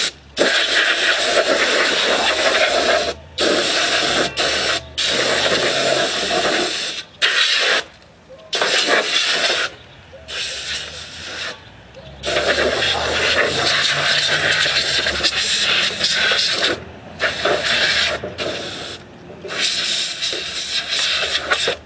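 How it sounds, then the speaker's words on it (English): Compressed air blasts dust out of a Noma riding mower with its dash removed, loud close hissing bursts that stop and start repeatedly with short gaps between them. "Blow some of this dust out of here."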